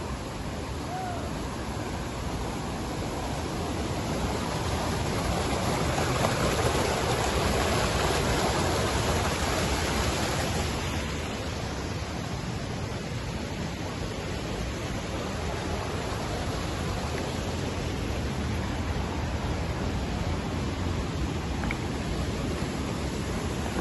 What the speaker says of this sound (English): Here it is, Bomburu Ella waterfall in all its glory.